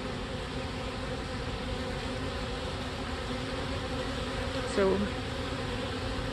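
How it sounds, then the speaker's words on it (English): A swarm of about 5,000 honey bees builds new wax comb with a dense, steady buzzing throughout. Near the end a brief spoken word rises over it. "And that's a nice tidy little swarm."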